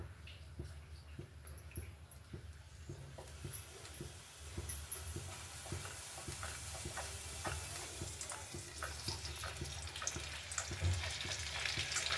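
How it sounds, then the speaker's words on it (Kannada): Tempering sizzles in a pan while chapati noodles are made, a soft steady frying hiss broken by regular stirring scrapes that grows slightly brighter as it goes, fairly quiet and with no voices. "ಇವಾಗ ಇದನ್ನು ಒಗ್ಗರಣೆ ಹಾಕ್ಕೊಳ್ಳೋಣ"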